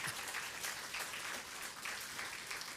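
A church congregation claps for first-time visitors at a Sunday service, a faint, steady patter of applause throughout the short stretch.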